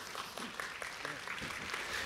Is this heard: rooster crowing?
no